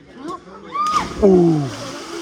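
A person plunges into clear water in a Mexican cenote, a sharp splash and slosh with voices talking over it.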